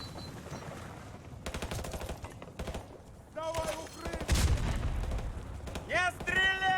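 Gunfire in Call of Duty Modern Warfare Remastered: scattered bursts of rifle shots and heavy booms, near and loud, with shouting voices mixed into the battle din.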